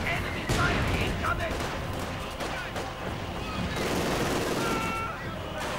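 Dense battlefield din from Company of Heroes 2: continuous rifle and machine-gun fire, flamethrower bursts and heavy crashes from a Soviet versus German match, loud and unbroken, with a voice commentating over it.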